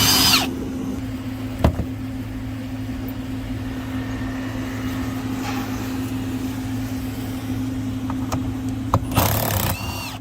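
A steady mid-pitched whir of a power tool runs for about ten seconds while a 10mm socket backs out a bolt from a console cover on a 2022 Ram 2500 truck, with brief clicks and knocks at the start and end.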